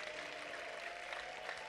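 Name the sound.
applause for God in church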